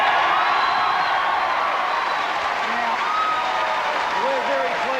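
A large outdoor crowd at a rugby league TV show event in Penrith cheers and applauds continuously, a loud dense wash of clapping and shouting that holds steady throughout.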